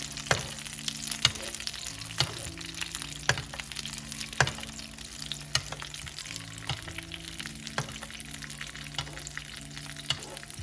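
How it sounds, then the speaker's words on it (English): Salmon fillet sizzling in a pan as hot oil is spooned over it, constant crackling fry with sharp scraping taps of the spoon at a steady, repeated rhythm, close and clear. "we're gonna get the oil and we're gonna baste the fish to finish it up top"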